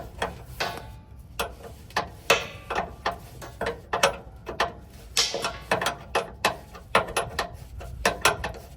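A 5/8 wrench unscrews the two air line fittings on a 53-foot utility trailer, making a close series of sharp metallic clicks and ratcheting knocks in an uneven rhythm, with no talking.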